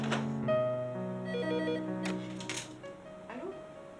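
Electronic telephone ringtone trilling in a run of tones at moderate level, with a faint voice in the background.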